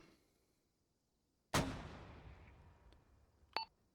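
A mortar fires a single high-explosive round in a military simulation game: one loud, close blast with a long fading rumble, followed a couple of seconds later by a brief metallic ping.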